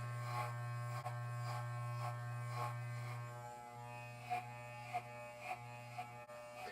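Electric hair clippers fitted with a number 4 guard buzz steadily while trimming a self-cut skin fade, a close continuous hum with a few soft scraping strokes toward the end and no talking.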